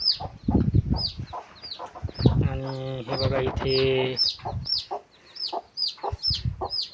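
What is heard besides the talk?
hen clucking while sitting on eggs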